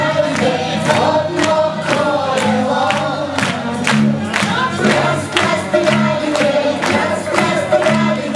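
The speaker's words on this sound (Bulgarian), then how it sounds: "Още видя специални аплодисменти, подвиквания, подсвиквания за Тодор" A live audience gives Todor loud, sustained applause with cheers and whistles, a dense crowd roar with rapid clapping throughout.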